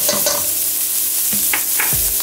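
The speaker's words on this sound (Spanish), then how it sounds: "Eso lo vamos a dejar sofreír unos cuantos minutitos." Meat sautéed with finely chopped sweet peppers and onion in a pan, a loud close sizzle with several brisk spoon scrapes and stirs.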